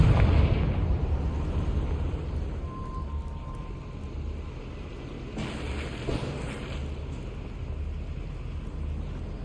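A Confringo spell blast in Hogwarts Legacy lands as a deep, rumbling explosion that rolls out loud at the start, then sinks into a low, sustained roar, with a second burst of crackling debris about midway through.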